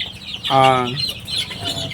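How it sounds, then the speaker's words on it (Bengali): A Fayoumi chicken lets out a single loud squawking cluck while being caught on a farm, amid farmyard noise, with faint bird chatter continuing around it. "মুরগি ভাই মুরগি ধরতেছেন"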